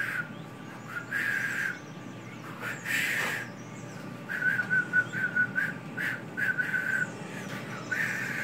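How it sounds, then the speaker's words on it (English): Whistled tune in the game Garry's Mod, a series of short high whistle notes in bursts with brief gaps, fairly close over a low steady background, with no talking. "I get a whistle."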